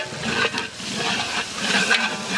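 Ginger garlic paste sizzling in a large pot for Arakkonam-style beef biryani, a continuous loud frying hiss with stirring scrapes and faint bubbling, close up and without talk.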